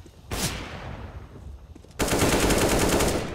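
Automatic rifle fire in CS:GO: a short burst near the start, then after a quieter gap a loud, sustained rapid volley fills the rest, no voices.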